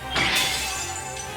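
A sword shatters in the video game Fate/stay night Remastered: a sharp, bright glassy crack bursts up, then fragments ring and scatter, fading into a faint shimmering tail. It is close and brief, with no voices over it.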